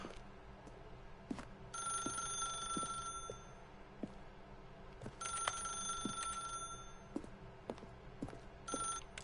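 A telephone in The Stanley Parable rings in repeated bursts of bright, high-pitched electronic trills, loud and close, with no one speaking.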